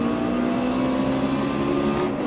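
Race car engines drone steadily in the iRacing simulator as the field rolls behind the pace car at Michigan, a sustained, loud multi-car hum with a bright tonal whine, no talk over it.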